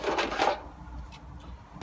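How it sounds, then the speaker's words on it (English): Plastic headlight cover unclipping from a Mazda MX5 during headlight connector repair, a burst of close, dry plastic clicks and rustling in the first half second, then quiet with a couple of faint ticks. "Screws out, cover just unclips."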